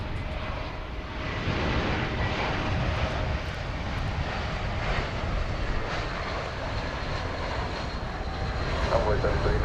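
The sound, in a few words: American Airlines Airbus A321 arriving at DFW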